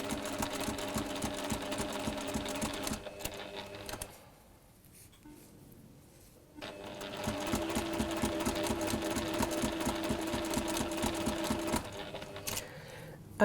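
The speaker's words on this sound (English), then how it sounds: "Just take your time as you sew it round." A domestic sewing machine stitching fabric up close, a steady rapid mechanical whir that pauses briefly for a couple of seconds, then resumes at a slightly lower pitch before stopping.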